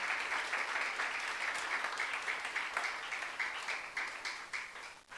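A church congregation at a youth service sermon applauds together, a steady, full burst of clapping from many hands that holds for several seconds and tapers slightly at the end.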